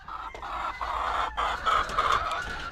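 Chickens cluck and murmur up close, a run of throaty, repeated calls that overlap with no pauses.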